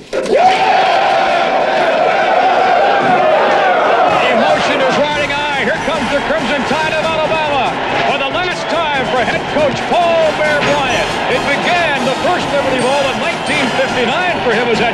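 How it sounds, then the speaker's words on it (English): Crowd roar at a college football game in the Liberty Bowl stadium, a loud continuous wash of cheering and shouting that holds steady, mixed with dense crowd noise. "The emotion is riding high. Here comes the crowd."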